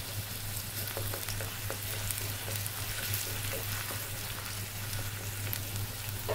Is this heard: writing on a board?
no